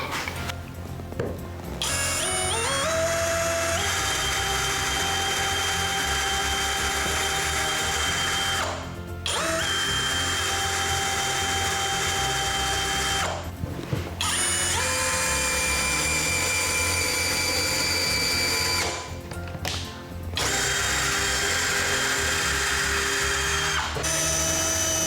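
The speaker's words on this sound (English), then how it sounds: "This works extremely well using our own drill bit and drilling into regular wood" A DEKO cordless drill boring into ordinary wood with its bit: loud whining motor runs in several long bursts, each spinning up and cutting off, with brief pauses between, no talk.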